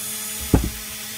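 A rotary tool grinds briefly at a chainsaw cylinder port, chamfering its edge: one short, close burst with a quick second touch, standing alone over a faint steady hum.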